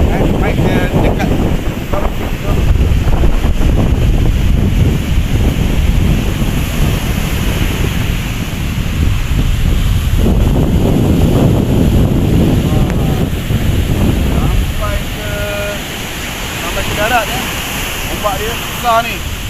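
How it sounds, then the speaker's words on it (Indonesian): Strong monsoon-season wind buffets the microphone nonstop while one-metre waves crash and wash along Pasir Lanun beach in Mersing, making a loud, dense roar throughout. "Angin boleh tengok angin sangat-sangat kuat, ombak pun 1 meter ada."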